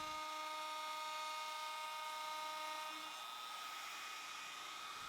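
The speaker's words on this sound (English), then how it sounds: "I'll do a quick pass with a flush trim bit" A router fitted with a flush trim bit runs at a steady high whine while trimming a glued wooden harp box, loud and close with a constant droning tone, its pitch shifting slightly partway through.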